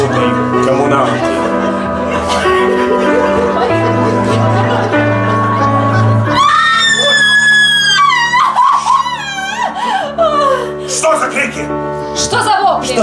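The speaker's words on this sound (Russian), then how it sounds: "Что за вопли?" On stage in the Russian musical Nord-Ost, performers scream and shriek in loud, wavering bursts after a passage of sung music with orchestra, with voices overlapping throughout.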